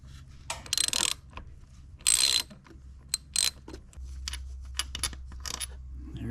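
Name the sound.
ratchet loosening a bolt on a Honda CRF300L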